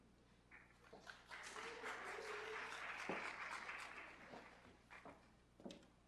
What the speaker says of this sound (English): The applause is too kind.